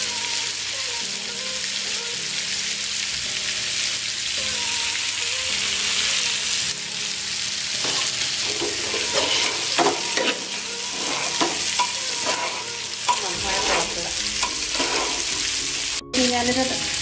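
Rice fries in a pan with oil for a homemade Kerala-style chicken biryani, sizzling steadily while a spoon stirs and scrapes it in repeated bursts; close and continuous, with no talk.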